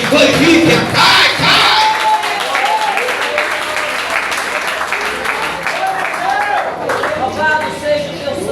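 Church congregation at a worship service applauding and cheering loudly, a dense sustained crowd roar with clapping and shouts throughout, voices mixed in.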